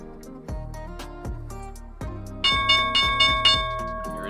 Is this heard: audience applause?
no